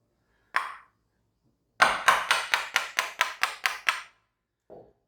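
A wood chisel is struck against a marked wooden piece, giving a single sharp knock, then a quick run of nine evenly spaced hard taps and one softer final tap, close by and clear with no voices.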